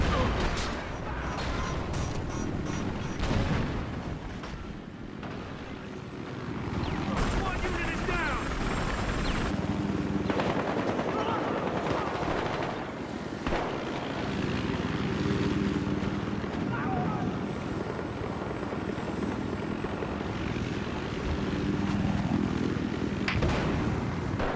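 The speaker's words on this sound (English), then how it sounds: "On the chopper." A helicopter in Battlefield Hardline drones loudly and continuously with rumbling rotor and engine noise, mixed with mechanical clanks and occasional sharp game effects, while people talk over it.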